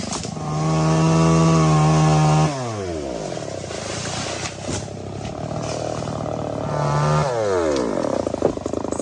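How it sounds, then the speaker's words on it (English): A chainsaw revs high, drops back to idle, then roars up again, its motor whine loud and close with rising and falling pitch. "Somewhere in there is Cole with a chainsaw."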